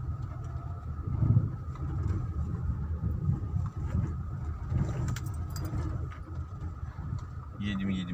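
A car rolls along the main street of a village, its engine and tyre noise forming a steady low rumble throughout, with a light jangle of keys near the end.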